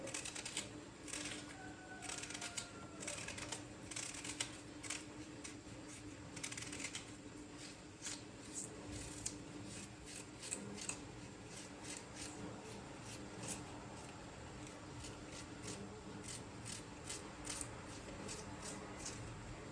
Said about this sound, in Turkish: Şimdi şöyle kenarlarda soğanımızı doğrayalım.